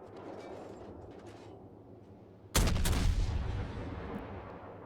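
Naval guns on the US destroyer Mahan in World of Warships fire a single heavy boom partway through, a sudden loud blast with a rumbling tail after a stretch of low engine and ambient hum.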